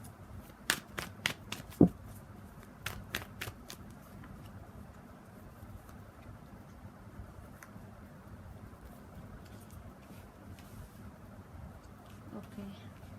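Tarot cards being shuffled close by, heard as a quick cluster of crisp flicks and riffles early on. After that come quieter faint rustles over a soft background hiss.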